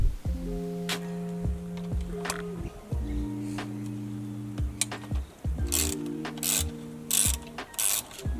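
A ratchet tool works loose the bolts on a BMW S63 engine, sounding as bursts of close, rapid mechanical clicking in several separate runs, with short pauses and a few sharp knocks between them.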